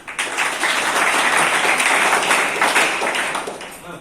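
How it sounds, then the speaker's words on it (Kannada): An audience bursts into applause, a dense wash of many hands clapping that swells quickly, holds steady and then fades out. "ಖುಷಿಯಾದ ಚಪ್ಪಾಳೆ ಕಟ್ಬೋದು"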